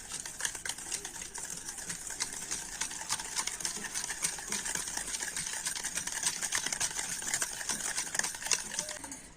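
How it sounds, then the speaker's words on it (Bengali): A handheld blender whisks sour curd, powdered sugar and white oil, giving a continuous buzzing whir with a fine rattling texture that runs steadily from start to finish, close and fairly quiet. "একটা ব্লেন্ডার দিয়ে টক দই, গুঁড়ো চিনি আর তেলটা কিন্তু খুব ভালো করে ফেটিয়ে নেব"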